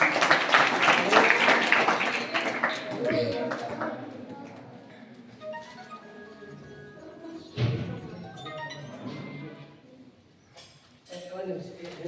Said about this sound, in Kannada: ತಾವೆಲ್ಲರೂ ಚಪ್ಪಾಳೆ ತಟ್ಟಿ ಅಭಿನಂದನೆ